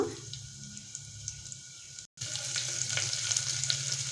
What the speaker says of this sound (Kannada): ಇವಾಗ ಈರುಳ್ಳಿ ಹಾಕೋಣ